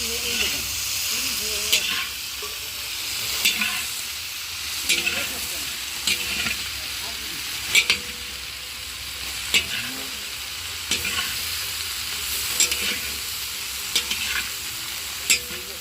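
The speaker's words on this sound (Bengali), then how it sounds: "একে একে সবজিগুলো সব দিয়ে দিচ্ছি, সব একসঙ্গেই দিয়ে নেড়ে নিচ্ছি।" Mixed vegetables frying in a pan as they are stirred together, a continuous hissing sizzle broken by regular spatula scrapes about every couple of seconds.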